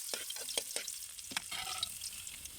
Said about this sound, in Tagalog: maglunod na ta sa atong luya